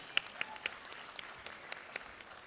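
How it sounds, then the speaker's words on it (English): Sparse audience applause at a technical session, a handful of distinct claps scattered over a few seconds, faint and thin as if from a small group in a hall. "Let's give him a huge round of applause"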